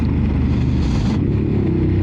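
A Ducati Monster 950 with a loud exhaust roars close by in a short, continuous burst, and its pitch shifts slightly as it rides past.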